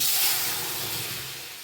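Bitter gourd and amaranth stem curry vegetables hit hot oil with radhuni and bay leaf, giving a loud, close sizzling hiss that fades over under two seconds.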